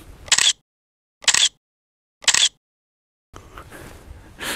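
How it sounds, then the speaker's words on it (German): Three crisp single-lens reflex camera shutter clicks, close and evenly spaced about a second apart, followed by faint background rustling and room noise. "Davon müssen wir eigentlich ein Foto machen."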